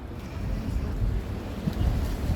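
Wind gusts at Marseille's old port on a breezy afternoon, a low rumbling buffet of air across the microphone with faint harbour ambience, steady and unbroken by speech.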